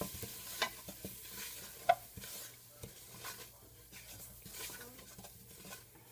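A spoon stirs self-rising flour into a macaroni and cheeseburger bake mixture in a pot, giving soft, irregular scraping and clinking strokes with a faint low simmering hiss underneath, quiet and close, with no talking.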